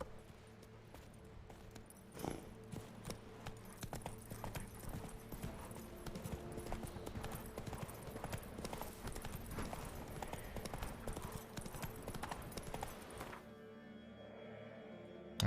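Hooves of the horse Roach galloping in Witcher 3, a rapid, steady clip-clop rhythm that runs close and continuous for most of the stretch before cutting off abruptly near the end.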